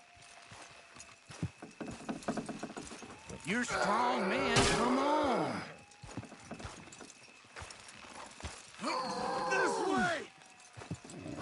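Horse hooves clopping in Red Dead Redemption 2 while someone talks and urges the horses on, with a cow mooing twice over steady hoofbeats.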